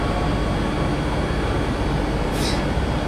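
A local train rumbles through a single-line station crossing as a loud, steady, broadband roar with no break, heard close by and unchanged throughout.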